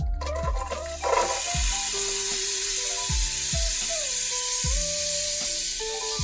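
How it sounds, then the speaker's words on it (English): Chopped celery and onion sizzling in a pan of melted butter and oil for a soup, a steady bright hiss running throughout with a few stirring knocks and clinks on top, close and fairly loud, no talking. "Now that this is melted, I can add in my chopped up celery and onion."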